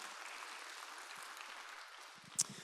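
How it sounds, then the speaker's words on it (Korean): Congregation applause at a church missionary appointment ceremony during a mission commitment night, a steady wash of many hands clapping together, with a sharp click near the end. "우리 선교사 임명식 박수"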